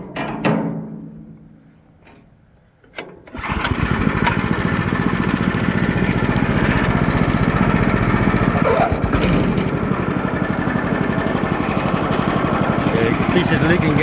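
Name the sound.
gasoline engine with faulty carburetor running a fan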